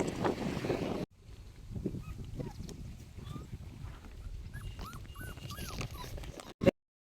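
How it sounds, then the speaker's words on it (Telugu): Small puppies whimpering and yelping in short high whines, moderately close, over low rumbling background noise, with a louder burst near the end. "చిన్న కుక్క పిల్లలు అయితే తీసుకున్నాం"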